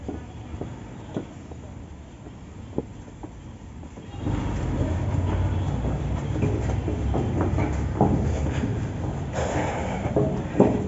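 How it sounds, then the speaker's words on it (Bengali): A children's toy train runs at the Wonder Land park in Bogura. It starts with a few quiet clicks, then a steady rolling rumble and clatter sets in and carries on, moderately loud, with occasional knocks. "শিশু পার্কে ট্রেনে ঘুরছি"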